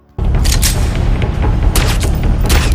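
A loud burst of gunfire in an action film erupts after a brief silence, followed by continuous heavy booming and crackling, dense and close.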